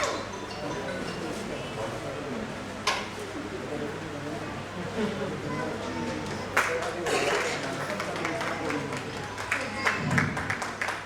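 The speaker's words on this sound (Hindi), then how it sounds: "तालियों में मजा नहीं है, बजाते रहिए, रुकना नहीं है।" An audience at a fashion event keeps applauding, soft, continuous clapping with a few sharper bursts, heard fairly faintly under a person speaking over it.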